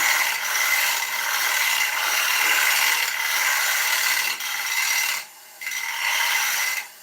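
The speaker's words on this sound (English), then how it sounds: "What I want to try and do is tidy that tenon. I'll face the tenon up on the foot." An oak bowl's tenon is faced on a woodturning lathe, giving a steady, close, hissing scrape of the tool cutting the spinning wood, with a brief pause before the cut resumes.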